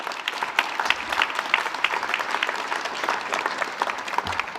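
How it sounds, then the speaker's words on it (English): A crowd at a memorial tribute applauds a speaker, a steady dense wash of many hands clapping at even loudness throughout. "Let's give him a big round of applause."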